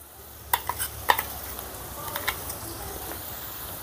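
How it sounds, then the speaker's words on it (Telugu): Garlic chili paste frying with softened onions in a pan, a soft steady sizzle with a few sharp clicks of a spoon stirring against the pan, close and fairly quiet, no talking. "ఈ వెల్లుల్లి కారం పచ్చివాసన పోయేంత వరకు ఫ్రై చేసుకుందాం."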